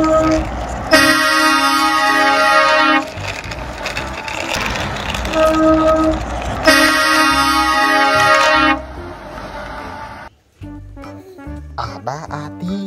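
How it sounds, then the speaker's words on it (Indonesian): A tronton truck horn sounds two long, loud, sustained blasts separated by a few seconds of rumbling noise, followed by brief busy background sounds. "Ada mobil truk tronton."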